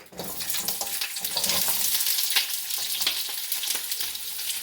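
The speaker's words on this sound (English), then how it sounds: "next I'll be pouring in the onions" Chopped onions hit a hot, oiled pan for Japanese hayashi rice, bursting into a loud, close, continuous sizzle with a bright hiss and faint crackles throughout.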